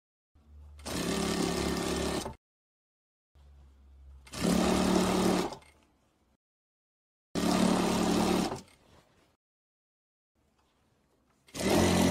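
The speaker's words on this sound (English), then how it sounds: "Now we will sew these pieces together down the middle." Sewing machine stitching patchwork baby quilt pieces down the middle, running in four separate steady bursts of a couple of seconds each, with quiet pauses between them, close and clear.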